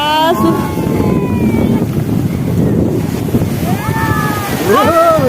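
Ocean waves roar on the shore at Poovar, Kerala, under heavy wind that buffets the microphone, with voices faintly audible in the background.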